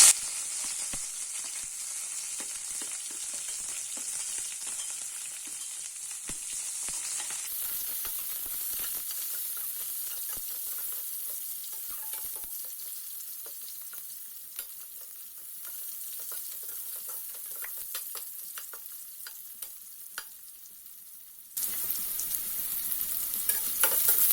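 Sliced onions and curry leaves sauté in a pan for a stingray fish curry, giving a continuous sizzle and hiss with frequent stirring clicks and scrapes, steady throughout with no voices.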